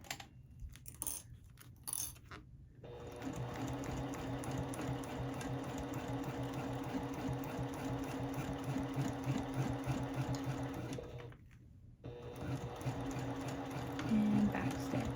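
A sewing machine stitches a small fabric pocket pal, running in a steady, even whir with a short stop and restart near the end after a few clicks of handling at the start.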